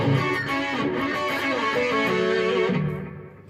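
Distorted electric guitar run through a TC Electronic Quintessence harmonizer pedal placed after the distortion, a thick doubled-harmony tone like two guitars playing together, sustained loud and steady before fading out at the end.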